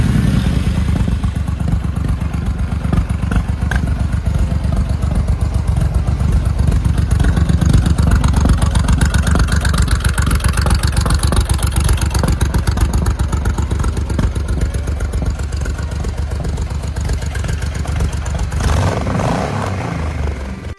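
A vintage Suzuki Intruder cruiser motorcycle engine running with its exhaust note, a loud, close, steady low rumble with a rapid pulsing beat that holds evenly and shifts slightly near the end.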